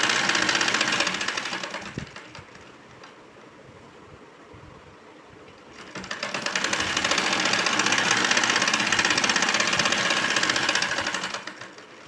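A sewing machine stitches a pillow cover, its needle chattering in a loud, rapid run up close, easing off for a few seconds, then running hard again before stopping.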